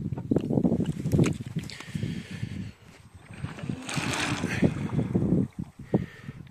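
A small GPS bait boat is set down onto the water from the shore, with close handling knocks, light splashing and a soft motor-like whir, all over gusty wind noise on the microphone.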